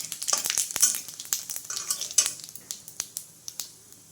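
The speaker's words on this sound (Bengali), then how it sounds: "আর দিয়ে দেবো শুকনো লঙ্কা সাদা জিরে এলাচ আর দারচিনি আস্তে আস্তে নাড়তে থাকবো" Dry red chillies, cumin seeds, cardamom and cinnamon frying in oil over a low gas flame, a soft sizzle broken by quick spoon clicks and scrapes against the pan, close up.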